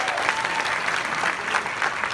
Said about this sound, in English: Let's give Ruth another round of applause.